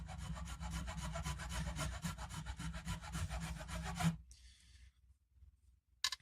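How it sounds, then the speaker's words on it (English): A file rasps along the edge of a wooden guitar fretboard in a rapid, steady run of back-and-forth strokes, then stops, leaving a short soft rub and a brief knock. "I'm just filing it a little to get it close to the edge of the neck to fit in with the rest of the fretboard."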